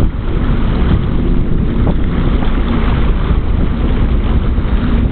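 A boat with a 260-horsepower engine tows another boat across open water, a loud constant rush of engine, hull and wind noise buffeting close to the microphone throughout.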